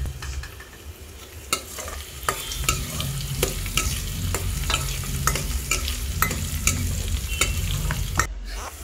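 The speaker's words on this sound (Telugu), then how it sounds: "చూసారా వెల్లుల్లి చక్కగా ఫ్రై అయిపోయింది." Garlic fries in hot oil for a Telugu-style dal rasam, making a dense, close crackling sizzle with a low rumble beneath and repeated sharp pops and spoon scrapes as it is stirred.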